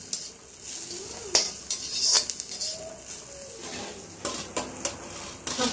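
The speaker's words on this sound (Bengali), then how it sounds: "সবগুলো একসঙ্গে মিশিয়ে নিচ্ছি।" Chili and chicken pasta ingredients being stirred together in an oiled pan in a home kitchen, with scattered scraping and clinking of a utensil against the pan over a low sizzle, in irregular bursts, with no talking.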